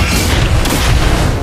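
A turret being destroyed in a mobile MOBA game: a loud, dense, sustained boom with crashing debris filling the whole moment, close and continuous, no talk.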